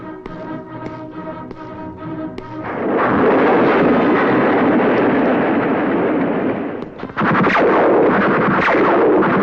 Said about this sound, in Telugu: అయ్యో, బాబు పేలింది.